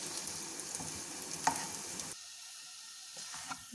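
Chopped dates melting in ghee in a pan over a medium flame, a quiet sizzle with stirring scrapes and one small clink that cuts off sharply halfway through, leaving faint hiss.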